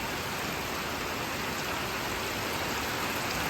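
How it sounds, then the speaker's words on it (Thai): Heavy windless rain pours steadily for half an hour, a dense, even rushing hiss of water on surfaces that fills the scene without breaks, with no voices. "แต่ไม่มีลมนะ น้ำล้วนๆฝนล้วน ๆ เลย ฝนล้วนๆฝนล้วนๆ ตกได้แล้วครึ่งชั่วโมงละ"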